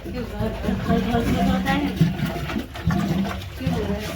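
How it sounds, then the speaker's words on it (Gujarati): Water pours from a tap into a clay pot with a steady gurgling splash, while people talk over it throughout. "પાણી ચાલુ જાય માટલામાં"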